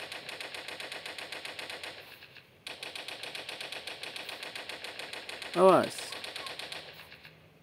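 Rapid gunfire from the video game Toilet Monster: Hide N Seek, with bursts of repeated shots in a quick steady rhythm, a brief pause partway through, and a voice calling out over the shooting.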